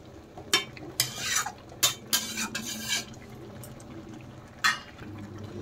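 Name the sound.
stirring eggs into curry gravy in a pan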